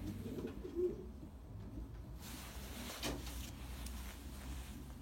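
Pigeons coo in a loft of Leidman-line racing birds, soft low calls repeating over a steady murmur of wings and movement, fairly close and moderately loud throughout.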